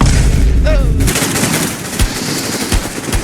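Loud gunfire in a video game, with a dense burst of close shots followed by sparser, sharp cracks and booms over continuous battle noise.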